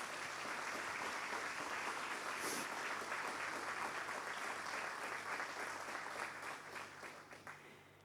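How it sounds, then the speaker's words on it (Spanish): Sustained applause from a church congregation at a Sunday service, a dense wash of clapping from many hands that holds steady before tapering off near the end. "denle un aplauso"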